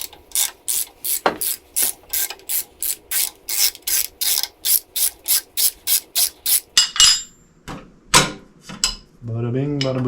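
A hand ratchet loosening the bottom exhaust manifold bolts on a Cummins-swapped C30 dually truck clicks in a fast, steady run of loud, close strokes, then stops with a few clunks and a short whine at the end.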